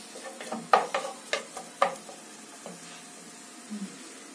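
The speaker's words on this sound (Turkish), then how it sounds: "Arkadaşlar, kızmış yağın üzerine soğanımızı koyduk." Onion sizzling and being stirred in hot oil in a pan, with several sharp scraping and clattering stir strokes over a faint, steady fry; no talking.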